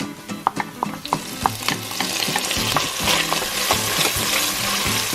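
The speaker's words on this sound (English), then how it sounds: "just cook for about a minute or so until you can smell the aroma of the garlic." Garlic fries in a pan with onions that were sauteed first, giving a steady sizzle broken by repeated scraping and stirring strokes close by.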